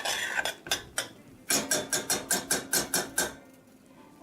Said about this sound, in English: And we're stirring that until it's smooth.